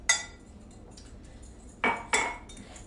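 A spoon stirs almond flour and melted butter in a bowl for low-carb mini cheesecakes, giving a few sharp clinks against the bowl over quiet background.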